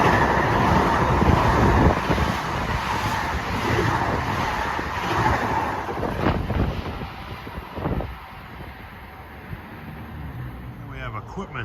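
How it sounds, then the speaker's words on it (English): A Long Island Rail Road train rolls through Westbury station on the triple track at evening rush hour, a loud, steady rumble with wind buffeting that eases and thins toward the end, with a voice faintly audible. "And that's train 1656 from Grand Central to Huntington."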